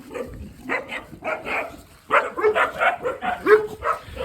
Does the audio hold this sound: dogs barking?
yes